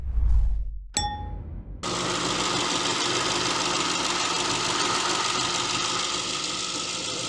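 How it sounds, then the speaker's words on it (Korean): A metallic clank and a bright ding, then the engine of a 2018 Genesis EQ900 5.0 starts and idles steadily and loudly nearby with a low, even rumble. "엔진 소리도 굉장히 좋고 누유도 없습니다"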